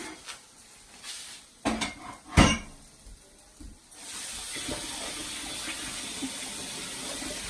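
Water from a kitchen tap runs into a sink during cooking cleanup, preceded by a few clunks and knocks, then a steady close rushing stream for the last few seconds.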